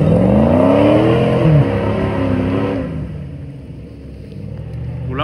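A large motorcycle engine revs loudly with a rising whine, then slowly fades and rumbles lower as the motorcycle moves off.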